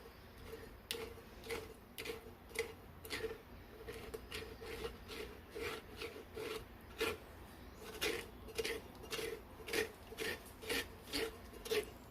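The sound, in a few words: scraping raspberry sauce through a strainer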